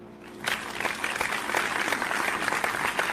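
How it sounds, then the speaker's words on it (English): Canned applause effect played during a live-streamed musician interview, a dense crowd clapping that swells in after a brief quiet start and holds steady and fairly loud throughout. "I have to play an applause because that's all I've got."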